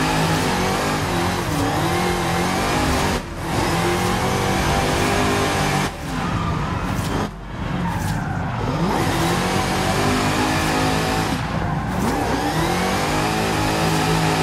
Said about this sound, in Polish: Ej, super łatwa fura do driftu wyszła.